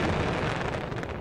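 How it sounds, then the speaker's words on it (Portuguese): A rocket truck explodes in the fireworks game Fireworks Mania, a dense continuous roar that stays loud and broad for its whole short span, with no voices. "pelo menos teve uma bela explosão"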